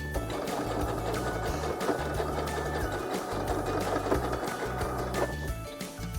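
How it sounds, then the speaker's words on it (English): A sewing machine runs steadily while stitching thick van seat cover material, giving a continuous rapid mechanical chatter up close with slight shifts in pace, no talking. "So I'll go and sew it now. It's very thick material this."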